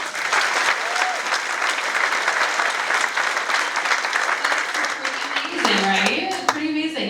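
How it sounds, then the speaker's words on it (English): A crowd at a ten-year celebration evening for Erik's Ranch breaks into sustained applause, loud and even throughout, with voices and some chatter rising in the final seconds as it fades. "Okay, round of applause."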